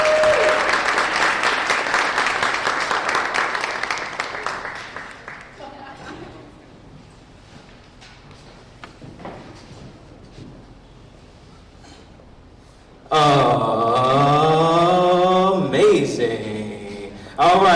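An audience at an acting showcase claps loudly and steadily for a few seconds. The applause thins into scattered claps and voices, and then music with a singing voice comes in.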